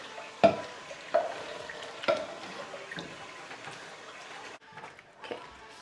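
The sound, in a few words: stirring gumbo with diced tomatoes and broth in a pot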